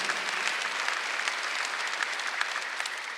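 A Korean Sunday church congregation breaks into dense, sustained applause, a continuous wash of many hands clapping at once, steady and fairly distant, with no speech over it.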